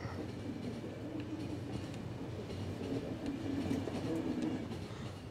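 A moving train in The Final Station video game rumbles along with a steady rolling drone and faint rhythmic clatter, a soft wheel squeal rising midway, all fairly quiet.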